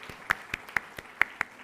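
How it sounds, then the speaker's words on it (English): Scattered hand claps from an audience at a Champlain College Saint-Lambert graduation ceremony, about six sharp distinct claps spread over under two seconds, sparse and moderately close. "let's give Alex a round of applause."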